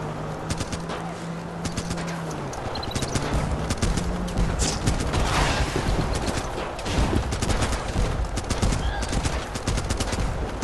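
A video game gun fires in rapid bursts, dense cracking shots that run almost continuously over a low engine drone, loud and close.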